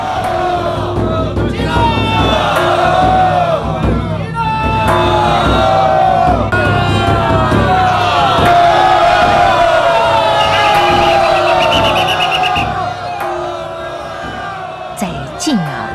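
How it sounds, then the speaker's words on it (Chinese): Dense crowd of Baishatun Mazu devotees shouting and cheering in rhythmic unison during a night pilgrimage procession as the goddess is carried to her palanquin, loud and continuous with overlapping voices and whoops. "在进啊进啊进啊的欢呼声中，白沙屯妈祖被信徒迎请上轿"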